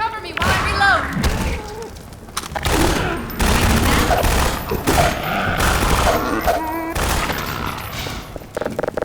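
Half-Life 2 firefight with dense, loud gunfire bursts and booming impacts in a chaotic battle mix, while in-game characters shout over the shots.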